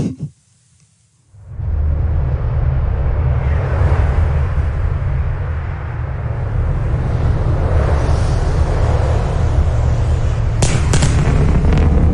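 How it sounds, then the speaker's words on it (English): After a moment of near silence, a SpaceX Starship sonic boom hits suddenly. It becomes a loud, rolling, thunder-like rumble that keeps booming and reverberating steadily for many seconds. "basically a brief thunder-like noise"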